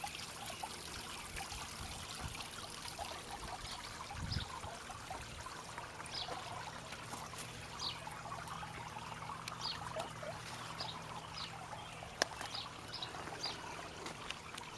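A small garden waterfall trickles softly and continuously in the background, faint and steady, with birdsong and light outdoor ambience around it.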